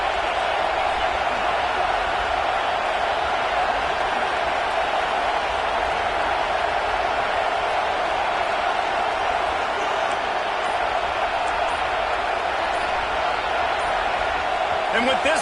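Football stadium crowd roaring at a college game between Oregon and Florida, a dense, constant wall of loud noise that never lets up, with commentary talking over it.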